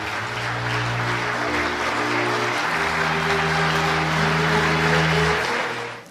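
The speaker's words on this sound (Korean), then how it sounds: "박수로 성원해 주시기 바랍니다" Church audience applauding at a Korean church gathering, a sustained wash of clapping from many hands with a steady tonal drone of music held beneath it.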